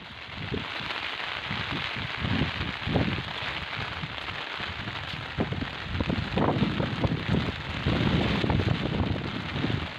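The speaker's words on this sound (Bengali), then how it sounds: "এবার আকাশে অনেক বৃষ্টি" Steady rain hisses continuously with wind buffeting the microphone, a dense outdoor wash of drops that never lets up.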